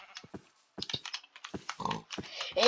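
Short, rough pig grunts from a video game repeat in quick bursts, mixed with clicky tapping like a keyboard, fairly close and busy.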